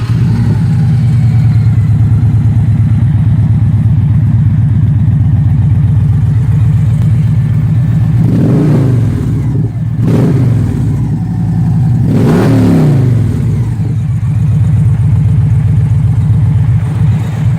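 2016 Victory Magnum motorcycle with Draggin bolt-on mufflers, a loud close idle rumble broken by two sharp throttle revs that surge and fall back to the steady beat.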